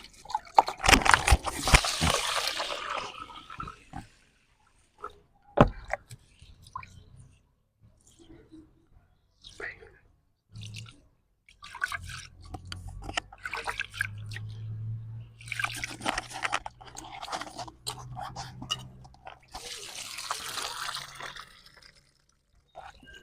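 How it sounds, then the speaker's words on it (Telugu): Basmati rice is washed in water, heard as several separate bursts of swishing, sloshing and dripping close by, with quieter gaps between them and a voice at times. "ఇప్పుడు మనము బియ్యాన్ని కడిగేసుకుందాం"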